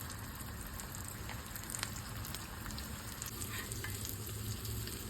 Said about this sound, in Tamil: ஷாலோ ஃப்ரை தான் பண்ண போகிறோம்